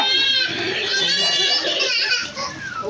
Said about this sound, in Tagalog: Nagsasagot yung kambing.